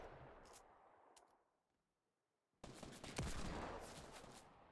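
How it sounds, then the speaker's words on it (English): Gunfire in a video game shooter: a fading rumble and a few faint distant cracks give way to a short silence, then a dense, sustained volley of rapid shots to the end, all fairly quiet overall. "Stop shooting at me."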